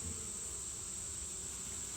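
Honeybees buzzing around an open hive during an inspection, a continuous dense drone with a high steady whine laid over it, no voices.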